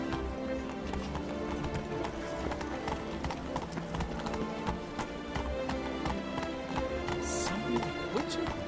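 Roach, a horse in The Witcher 3: Wild Hunt, gallops with steady rhythmic clip-clop hoofbeats running continuously throughout, over a dense musical and ambient game backdrop, with a brief whinny-like flourish near the end.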